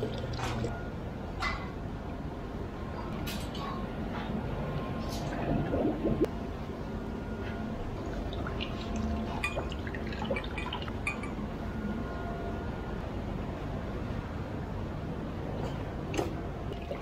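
Water rinses and drips off restored chrome Haro BMX bike parts, a steady close trickle with scattered drops and splashes running throughout.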